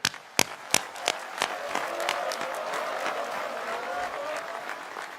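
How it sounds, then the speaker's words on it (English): Applause from an outdoor Fourth of July crowd honoring the Commemorative Air Force, opening with a few sharp claps before swelling into a steady, sustained wash of clapping. "let's give a round of applause to the Commemorative Air Force for being part of our celebration today"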